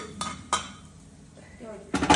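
A ladle stirs a cooked jackfruit dish tempered with mustard seeds, dried red chillies and coconut oil in a pot, giving a few close metallic scrapes and clinks against the pan in a quiet kitchen.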